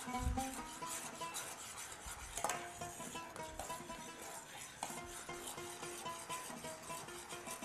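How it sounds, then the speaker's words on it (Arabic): Boiling semolina is stirred in a pot, giving faint, continuous scraping and rubbing strokes with light clinks of utensil against metal and a soft bubbling sizzle underneath. "السميد يحب تطيب، هذاك علاش كي يغلي تقعد ديما تحرك فيه مو توقفش"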